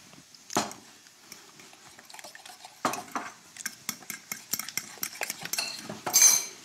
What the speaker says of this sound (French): Il mélange. Tiens, tu peux prendre une fourchette, ça va être plus simple. Tout mélange.